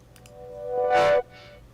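Synthetic impact sample pushed through heavy Decapitator distortion plugin, a rising tonal swell that peaks in a bright, harsh crunchy burst and cuts off abruptly, followed by a faint distorted tail.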